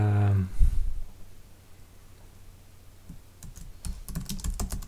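A computer keyboard being typed on in a burst of quick, close clicks after a short spoken phrase and a pause of quiet.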